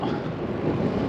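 Headwind roars across the microphone on a bikepacking ride through open wheat fields in France, a continuous close buffeting rush with no voices.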